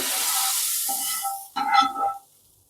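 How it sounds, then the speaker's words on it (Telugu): Hot tempering tipped into a pot of Andhra-style sambar gives a loud hiss and sizzle that fades, followed by a short burst of stirring and bubbling. "మనం ఏవైతే తాలింపు రెడీ చేసుకున్నామో దాన్ని మన సాంబార్లో వేసేసుకుందాం"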